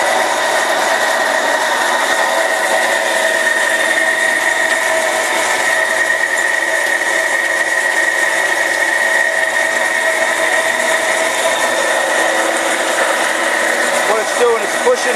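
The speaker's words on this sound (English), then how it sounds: "we got ourselves a crusher here. And we're going to plug it in." An electric grape crusher-destemmer in a home garage winemaking setup runs with a continuous, loud motorized whir and grind, steady throughout, as it pushes stems out and crushes grapes.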